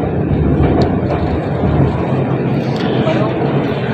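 Steady low rumble and rolling noise of an underground metro train in Tehran, heard from inside the carriage, loud and continuous with no clear breaks.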